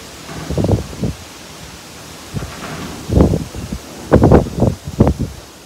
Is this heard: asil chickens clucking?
no